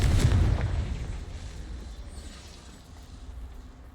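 A Confringo fire spell explodes in Hogwarts Legacy, a sudden loud booming blast followed by a rumbling, crackling decay that fades over a few seconds.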